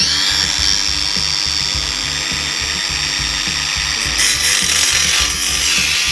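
Power tool cutting angle iron for a DIY skatepark ledge, a loud continuous grinding whine with a pulsing rhythm that swells slightly near the end, close up and with no talking.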